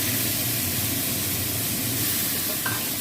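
Boiled banana stem frying in hot white oil in a pan, giving a steady, close, dense sizzle and crackle that holds evenly throughout with no voices.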